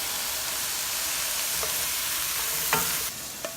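Rice toasting in a hot pan gives a steady, close frying hiss, with occasional scraping stirs and brief knocks against the pan near the end.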